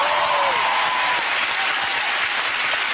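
Studio audience on The Graham Norton Show applauding a band, a loud, sustained wall of clapping from a large crowd, with a brief whooping cheer at the start.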